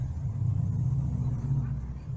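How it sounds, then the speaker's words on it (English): A noisy car passes near a church, a continuous low engine rumble that swells and holds steady throughout, fairly loud with no other distinct sounds. "Just letting a noisy car pass there."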